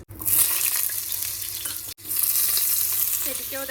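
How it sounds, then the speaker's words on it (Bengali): Fish hitting smoking-hot oil in a wok and frying with a loud, dense sizzle that surges up, cuts out for an instant, then roars on steadily at close range. "দেখো তেলে একদম ধোয়া উড়ে যাচ্ছে মাছগুলো দিয়ে দিই"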